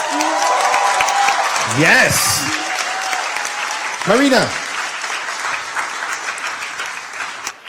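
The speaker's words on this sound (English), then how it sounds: "A round of applause," An audience at a youth climate summit applauds steadily throughout, a broad wash of clapping with cheers, while a couple of voices speak briefly over it.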